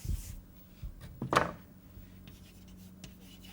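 Chalk or marker scratching on a board during a lecture, a short burst of writing strokes with a few faint taps in an otherwise quiet room.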